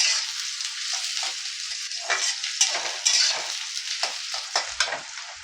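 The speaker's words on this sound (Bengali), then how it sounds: "ভালো করে একটু লাল করে ভেজে নেব সব সবজিগুলো।" Chopped vegetables and onion fry in oil in a pan for sooji upma while a spoon stirs them. A steady close sizzle runs throughout, broken by repeated scraping strokes, with no talking.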